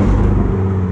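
An Abarth 595 esseesse engine revs up hard under acceleration, a loud, close, continuous roar that climbs in a short burst of less than a second.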